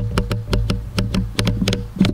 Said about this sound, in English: is the aperture ring.